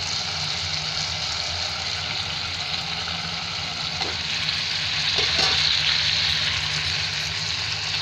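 Spices frying in oil in a kadhai with black chickpeas, a steady close sizzle with some stirring clatter midway and a slightly louder stretch toward the end; no speech.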